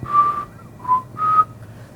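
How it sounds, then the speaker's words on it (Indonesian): Someone whistles in the neighbouring toilet stall: three short, clear, steady notes with brief pauses between them, fairly close and alone in a quiet room. "di toilet samping dia ini dengar ada yang bersiul"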